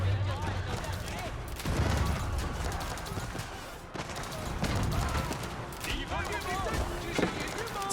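Hand cannoneers in an Age of Empires 4 battle fire in crackling volleys and scattered shots amid dense clashing combat noise, with a commentator talking over the fighting.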